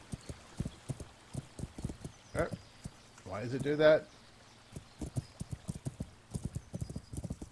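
Horse hooves clip-clop in a steady walking rhythm while riding in Kingdom Come: Deliverance, a medieval role-playing video game, close and clear, broken midway by a short whinny, with someone talking over it.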